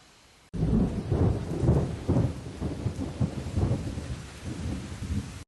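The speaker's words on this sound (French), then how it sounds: "Rampe grille à pluie, qu'on va trouver surtout dans les décors de cinéma." A film-set rain bar rig suddenly starts up, releasing a heavy, continuous downpour that roars loudly and pulses slightly in intensity before stopping abruptly.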